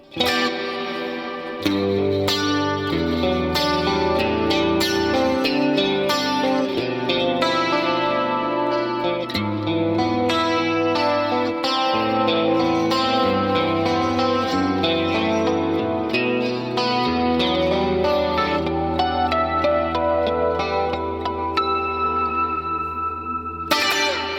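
Sustained electric guitar chords and melodic lines run through a plate reverb, drenched in lush, shimmering reverb with long echoing tails, playing continuously and loud throughout.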